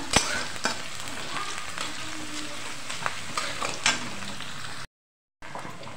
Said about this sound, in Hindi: प्याज फ्राई हो चुका है मसाला डाल देते हैं अभी